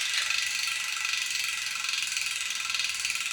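A new Shimano Ultegra C50 carbon wheel hub freewheels with a rapid, even ratchet buzz, a continuous fine clicking at close range with no other sound.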